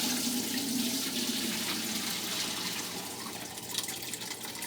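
Water running steadily to sparge mashed grains for a home-brewed amber ale in a small apartment kitchen, a continuous close rushing pour that holds level throughout with no talking.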